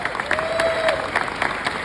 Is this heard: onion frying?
no